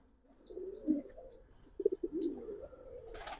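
A pair of army khaki Giribaj pigeons coo softly at close range, several low rolling coos with a quick stuttered series in the middle, plus a few faint higher chirps and a brief rustle at the end.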